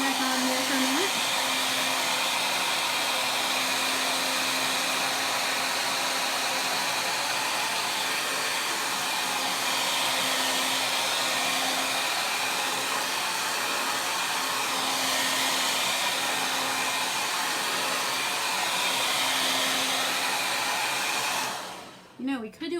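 A hair dryer blows in a loud, steady, continuous whoosh with a faint whine for over twenty seconds while drying a chalk transfer, then switches off abruptly at the end.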